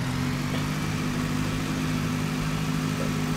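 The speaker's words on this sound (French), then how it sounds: "on entend vraiment le tracteur qui accélère quand on met un outil en route" A Fendt 512 Vario tractor pulling a slurry tanker in a farming video game gives a steady, loud engine drone that holds constant throughout, with no voices.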